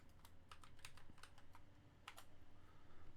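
Typing on a computer keyboard, a steady run of close, crisp key clicks arriving in quick irregular bursts over a low background hum.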